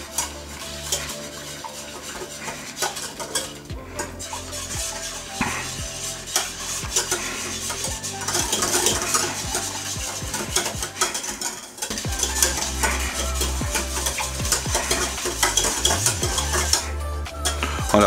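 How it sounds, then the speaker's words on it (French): A whisk stirs milk into a vegetable lasagna sauce in a pan, a steady run of scraping and clinking of metal against the pot over a low continuous sizzle, close and fairly loud throughout. "j'y vais directement au fouet."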